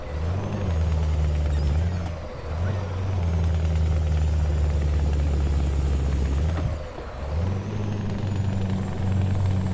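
Truck engine in Euro Truck Simulator 2 with ProMods, pushed at full throttle through snow on a northern Iceland route: a steady loud diesel drone, with brief dips as revs drop and climb again.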